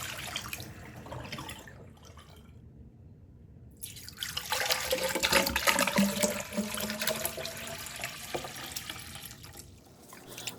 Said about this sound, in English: I use the brush as I rinse the housing, discarding and replenishing the water 3 times